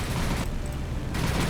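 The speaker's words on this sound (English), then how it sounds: "but we are getting some explosions." Dense, continuous rumbling explosions and rapid anti-aircraft gunfire from the naval combat game War on the Sea fill the whole stretch loudly, with a slight dip in the middle before the barrage swells again.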